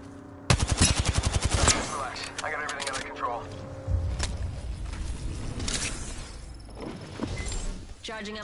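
Rapid automatic gunfire in the battle-royale video game Apex Legends: a loud, close burst of fast repeated shots early on, then scattered shots and in-game effects, with voices heard over the action.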